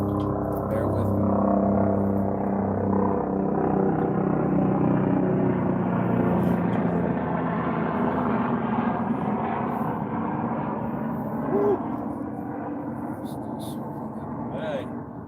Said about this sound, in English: There's a helicopter coming